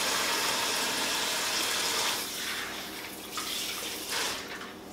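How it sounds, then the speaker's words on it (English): Tap water runs steadily into a sink as hands are rinsed clean of peach juice in a home kitchen. The flow is loud and broadband at first, then turns softer and more broken as the hands move beneath the stream. "I'm gonna rinse my hands off."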